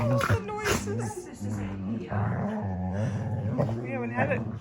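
A dog named Coda, recovering from a second surgery, growls and grumbles in play while tugging at a stuffed donut toy, nearby and fairly loud, with rumbling, whiny vocal tones that rise and fall continuously.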